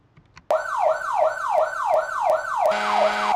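An emergency vehicle siren in the video game Project Zomboid starts abruptly and wails in fast, repeated rising-and-falling yelps, loud and close, with a steady horn-like tone joining near the end.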